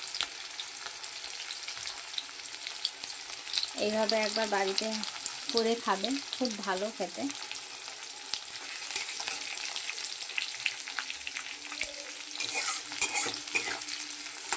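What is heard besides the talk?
chopped onions frying and being stirred in pan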